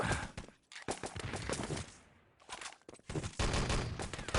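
Rapid gunfire from the Enemy Territory shooter during a 6on6 LAN showmatch: dense bursts of rifle and automatic shots in quick clusters, with a brief lull in the middle and no voices.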